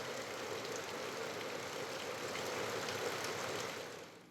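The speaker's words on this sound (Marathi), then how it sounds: "कुडाळ सावंतवाडीमध्ये ढगांचा गडगडाट झालेला आहे आणि जोरदार पाऊस होतोय।" Heavy unseasonal rain brought by a cyclone falls in Kudal and Sawantwadi, Sindhudurg, a steady soft hiss of downpour on surfaces, faint and even before fading out, with no voices.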